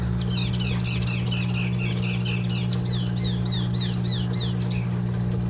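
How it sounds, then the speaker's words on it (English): Birds chirp and trill in a quiet backyard, a run of repeated high whistled notes carrying across several seconds over a steady low hum, with no talking. "Just me and the birds back here."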